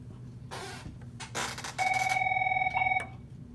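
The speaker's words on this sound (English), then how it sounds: "my phone's ringing, I'm ignoring it" A phone rings close by during a maths lesson. A couple of short buzzy bursts are followed by a steady electronic ringtone that sounds for more than a second before cutting off.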